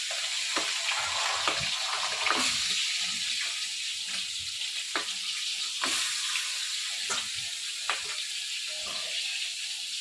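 Fish pieces rubbed with salt and turmeric fry in hot oil with a constant close sizzle, broken by scattered sharp crackles and pops.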